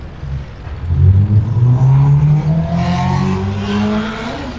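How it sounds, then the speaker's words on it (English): A tier 7 Chinese tank in World of Tanks revs its engine loudly and close, the pitch climbing steadily and then holding at a high, rough drone. "Your tank sounds pretty impressive there."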